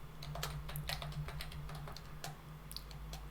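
Fast, steady typing on a computer keyboard while entering a sudo command in a terminal, the key clicks close and continuous over a low steady hum.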